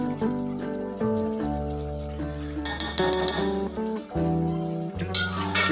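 Rice with vegetables and garam masala being stir-fried for vegetable palao, a steady close sizzle with scraping stirring strokes and brief clatters, no voices.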